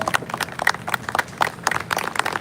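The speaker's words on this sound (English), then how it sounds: "A bigger and stronger round of applause." Audience clapping at a real estate property launch event, a crowd applauding in dense, uneven bursts at moderate distance, with no talk over it.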